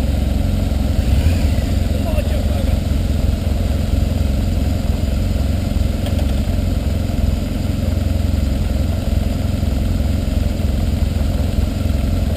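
A motorcycle engine idles steadily throughout, a constant low rumble at even loudness, with faint voices in the background.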